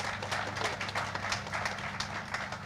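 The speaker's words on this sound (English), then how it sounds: "give yourselves a round of applause for that collaboration" Applause from the crowd at a groundbreaking ceremony for a new Middletown library: steady, dense clapping that holds at an even level throughout, with no voices standing out.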